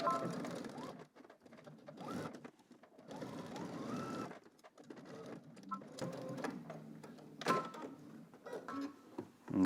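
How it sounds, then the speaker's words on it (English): Domestic sewing machine stitching a knit polo shirt seam with a 5/8 inch allowance, whirring in steady bursts broken by short pauses, close up with no talking. "You want to start at the top and stitch all the way down until you get to your marking using 5/8 of an inch seam"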